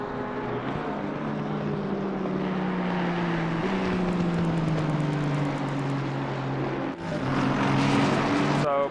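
Ford and Aston Martin GT race cars battle down the back straight at Paul Ricard in the racing game Assetto Corsa Competizione, engines droning steadily at high revs with a gear change, under race commentary.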